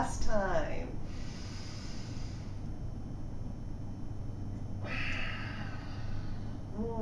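Deep breaths during seated yoga, inhaling and exhaling in slow, steady cycles, with a soft, airy exhale coming through clearly partway through against a quiet room.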